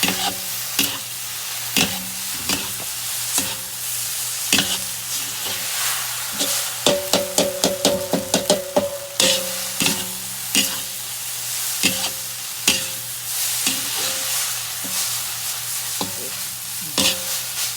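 Mie goreng, Indonesian fried noodles loaded with vegetables and meat, sizzles steadily in a hot pan while a utensil scrapes and tosses it in a run of sharp, repeated strokes, close and loud, with no talking.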